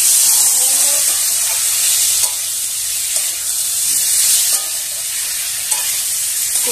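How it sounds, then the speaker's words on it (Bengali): Fried pointed gourd and potato pieces sauté with Gobindobhog rice and spices in a hot pan, producing a loud, continuous hissing sizzle broken by periodic stirring strokes and scrapes. "এবার যে ভেজে রাখা পটল আলুগুলো সেগুলো দিয়ে দিলাম। এবার ভালো করে এই মশলার সঙ্গে কষিয়ে নিচ্ছি।"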